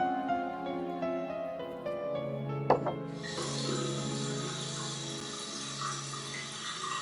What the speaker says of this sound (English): I just hear water running.